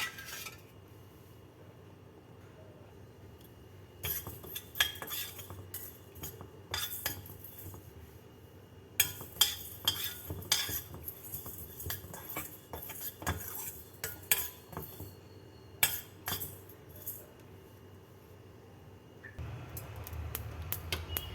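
Cumin seeds and fenugreek are dry-roasted in a small pan, giving repeated clinks and scrapes of a metal spoon against the pan in irregular bursts with quiet gaps, close by and with no talking.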